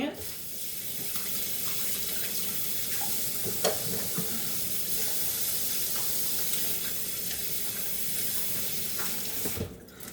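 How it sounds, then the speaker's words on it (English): Hands washed at a kitchen sink during meatball preparation, with a continuous running tap and splashing water throughout, a few clinks and bumps, and the flow cut off near the end. "I'm gonna wash my hands."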